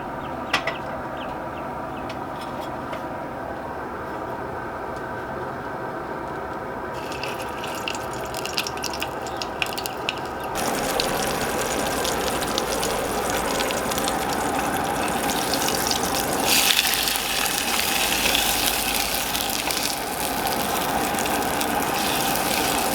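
Sausage sizzles in a skillet over an MSR Windburner camping stove, a steady close frying crackle with light spattering and clicks that grows a little louder partway through; no talking.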